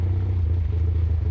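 Outboard jet motor on a jon boat converted to a jet sled, idling in shallow water with the motor trimmed way up, a steady low rumbling drone close by, continuous and unbroken.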